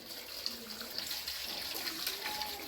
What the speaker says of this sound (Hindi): इसे पानी से अच्छी तरीके से वॉश कर लेंगे।